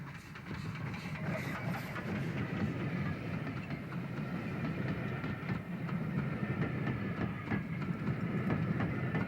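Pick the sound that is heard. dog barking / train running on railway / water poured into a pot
train running on railway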